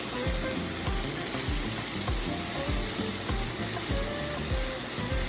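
Onions frying in a pan for beef steak, a dense, even sizzle with a rapid bubbling crackle, close and continuous with no voices.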